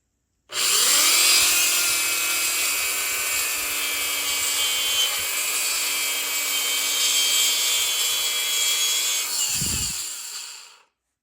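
A power polishing tool works steadily on the metal trigger parts of a Black Aces bullpup shotgun, a continuous high whine with gritty rubbing, close and loud, winding down at the end.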